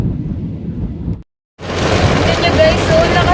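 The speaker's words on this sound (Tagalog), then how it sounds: "Tignan nyo guys, so lakas ng ulan" Heavy rain falls in a dense, loud wash with low rumbling, cut off briefly by a short silence before the downpour resumes just as strongly.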